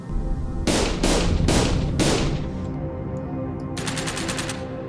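Gunfire from first-person shooter game prototypes: four loud, evenly spaced shots followed by a quicker, fainter burst of rapid fire over a constant low background.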